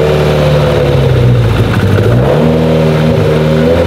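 A Mitsubishi Lancer Evo X engine runs loud and close, revving up and settling back with rising and falling tones over a steady growl.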